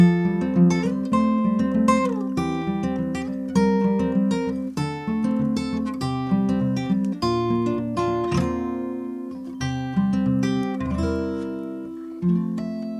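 Guitar picking pattern for the B section of a trance-like piece: a steady, flowing arpeggiated pattern that rings continuously over changing chords, close and clear with no talking.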